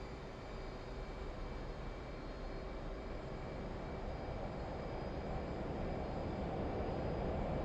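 F/A-18C Hornet jet engines run to full throttle on a carrier deck in DCS World, a steady, broad roar with a faint high whine, holding level and swelling slightly, with no voices.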